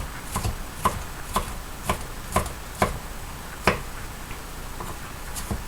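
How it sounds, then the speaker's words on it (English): Vegetables are chopped on a cutting board for a sweet polenta pork tenderloin pie, with about a dozen crisp knife strikes in a fairly steady rhythm, close and distinct over faint background noise. "Again, chopping the vegetables is basically no rhyme or reason."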